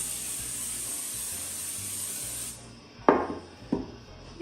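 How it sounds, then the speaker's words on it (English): Cooking spray hisses steadily onto a bread loaf pan for a couple of seconds, then cuts off, followed by two light knocks of the can or pan. "I'm just gonna spray it down with some cooking spray."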